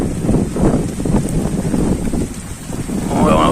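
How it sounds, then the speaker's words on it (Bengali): Strong wind roars and buffets the microphone in loud, continuous gusts, with no one speaking. "অসাধারণ বাতাস এখানে, প্রচুর পরিমাণ বাতাস দেখতে পাচ্ছেন"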